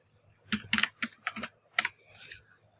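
Keys on a computer keyboard are struck in a short irregular burst of crisp, close clicks, about eight taps with brief gaps, alone without talk.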